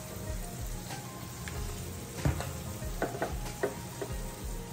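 Cheese sauce being stirred in a pan, a low steady bubbling sizzle with scattered scraping clicks and taps from the utensil, close and without speech.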